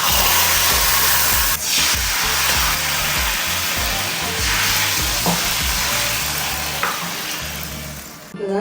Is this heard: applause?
no